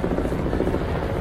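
A helicopter flies overhead near the Statue of Liberty, its steady low rotor thrum and engine drone loud and continuous throughout the short moment.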